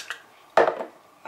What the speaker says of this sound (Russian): Можно баночку немножко потрясти, чтобы помидорчики хорошо